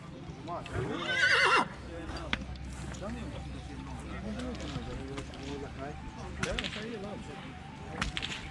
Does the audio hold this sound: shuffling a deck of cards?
no